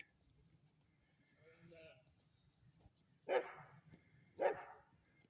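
Two sharp, loud barks from a farm guard dog during lambing time ring out close by, preceded by softer animal sounds, likely sheep, and low rumbling in the background.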